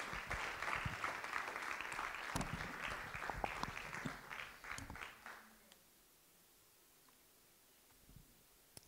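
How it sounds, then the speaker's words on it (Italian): A church congregation claps for about five and a half seconds after a blessing, a dense round of hand claps that tails off into near silence. "Possiamo fargli un applauso?"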